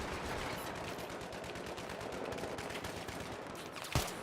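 Gunfire from Battlefield 3, rapid automatic bursts rattling continuously at a fairly faint, distant level, with one sharper, louder crack near the end.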